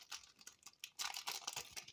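Crinkling plastic sachet around a new scrapbooking craft stamp being handled, with close, irregular rustling bursts that grow denser and louder in the second half; no voice.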